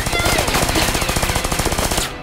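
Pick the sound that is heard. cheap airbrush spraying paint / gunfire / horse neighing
gunfire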